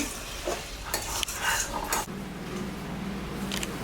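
Meat for handi chicken goes into a handi pot with a few clattering scrapes and stirring knocks, then a soft steady sizzle as it begins to cook.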